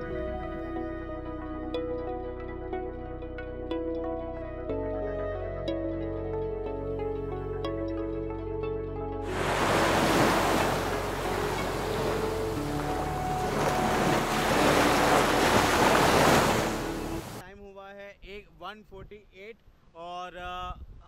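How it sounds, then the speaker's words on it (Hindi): Ocean surf at Maravanthe beach roars as a loud, broad wash of waves and wind between stretches of background music, and a voice speaks briefly at the end. "और हम एक लोकेशन पे आ गए हैं जिसका नाम है मारावंते बीच।"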